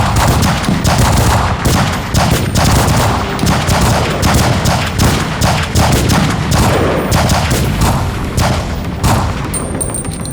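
Close, loud, rapid strings of SIG P226 X5 pistol shots ring out at a shooting range, with sharp reports repeating densely throughout.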